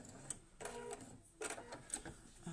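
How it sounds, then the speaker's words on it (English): A sewing machine stitches down the side of an arrow quilt block, running in short close bursts with brief pauses between them. "Stitch down that side."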